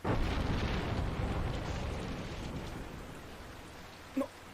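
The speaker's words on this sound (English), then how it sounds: "I thought it was just normal thunder" Thunder in an anime episode: a deep, rolling rumble that swells loudly at the start and slowly fades, followed by a couple of brief faint sounds near the end.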